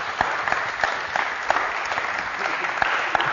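Applause for players during a shooting drill: a steady wash of hand clapping from a small group, with sharper individual claps punctuating it, moderately close and continuous throughout.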